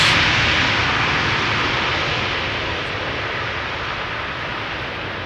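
A jet airliner just landed at Schiphol roars with thrust reversers, a loud, broad, steady rush of noise that eases slightly over a few seconds, with no voices.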